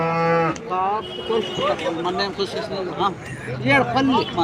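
Cattle at the Palamaneru market moo in several long, drawn-out calls, some close and loud, with people talking and bargaining over the animals in the background.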